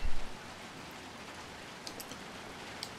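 Steady rain in the video game Little Nightmares 2, a continuous hiss of falling drops with a few faint ticks on top and a brief low thump at the very start.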